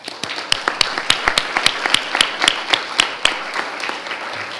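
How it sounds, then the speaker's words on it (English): Audience applause breaks out at an Escondido city council meeting for the Miss Extraordinaire contestants: many scattered, uneven claps of moderate loudness sustained throughout. "So can we give them a round of applause?"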